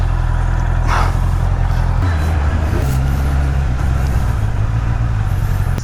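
Removal truck idling and pulling away on a Paris street, a heavy low engine rumble close by that shifts pitch partway through, with traffic noise around it.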